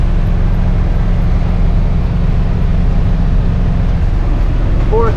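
A Winnebago motorhome cruising on a freeway in fourth gear gives a constant low rumbling road and engine drone, heavy and unbroken throughout, with a brief chirp near the end.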